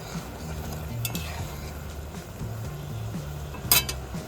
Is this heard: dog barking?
no